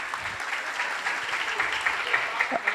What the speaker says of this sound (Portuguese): A primeira pessoa que aplaudir, vocês acompanhem.